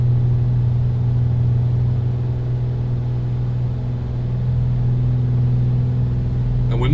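A turbocharged Beechcraft A36 Bonanza engine in a flight simulator, running near full throttle as a loud, steady droning hum with a strong low tone, unbroken for the whole stretch.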